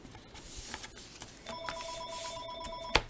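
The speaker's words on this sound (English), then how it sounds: "my phone is ringing" A telephone rings with a steady electronic tone that starts partway through a quiet craft workspace, sounding clear and close with no talking over it.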